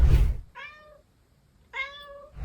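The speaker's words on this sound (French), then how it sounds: "Et après, j'entends ça miaule." A cat meows twice inside a bathroom, two clear, fairly close calls separated by a short silence, after a brief rustle at the start.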